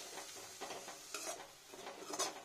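Faint sizzling of red spinach frying in a pan with the scrape of a spatula stirring a few times, quiet and close.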